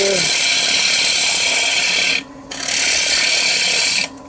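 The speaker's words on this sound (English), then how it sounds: "I can actually bore a hole with my bow gouge here." A bowl gouge bores a hole into a spinning natural-edge wooden bowl on a lathe, a loud close harsh scraping hiss in two sustained bursts separated by a brief pause.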